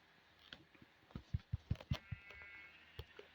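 Sheep in a Minecraft-style video game, a quick series of about six short, faint bleats clustered together, followed by a couple of scattered clicks.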